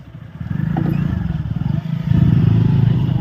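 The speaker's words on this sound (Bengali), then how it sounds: "বাইক চালাচ্ছি।" A motorcycle engine hums steadily up close while riding, its low throbbing growing louder as it picks up speed, with some rattling.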